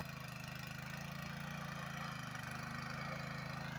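A small tractor engine runs at a steady idle for the whole stretch, a continuous low, throbbing drone with no voices over it.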